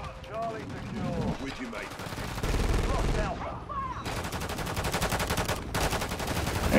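Gunfire in a Call of Duty match aimed at an enemy helicopter, with bursts of rapid automatic shots building through the clip amid battle noise, and a voice talking over the action.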